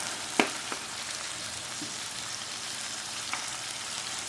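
Chicken sizzles as it browns in a stir-fry pan with broccoli, a steady crackling fry with a couple of sharp pops and clinks.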